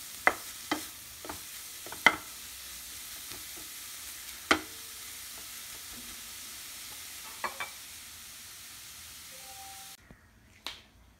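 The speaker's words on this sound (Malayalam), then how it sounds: "അപ്പോൾ നമ്മുടെ ചീര ഇടയ്ക്കൊന്ന് ഇളക്കിയിട്ട് കൊടുക്കണം" Spinach leaves in a pan, quiet with a soft background hiss and a few sharp, sparse clicks and taps from stirring, close but faint, no talking, ending in near silence.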